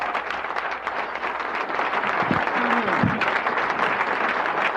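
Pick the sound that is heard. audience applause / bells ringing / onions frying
audience applause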